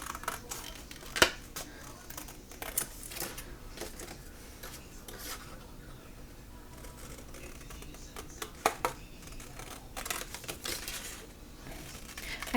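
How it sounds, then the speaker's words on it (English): Quiet snipping and rustling of scissors cutting out paper pieces for paper piecing, in irregular short bursts with paper handling between the cuts. "you're going to need some scissors, and what you're going to do is cut those out"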